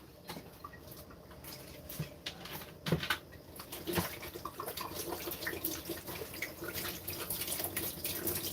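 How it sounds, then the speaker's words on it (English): Water poured down a kitchen sink, a continuous splashing trickle with gurgles and drips, steady and fairly quiet at close range, with no talking over it. "Throw away these bad waters down the sink, which I'm not gonna drink."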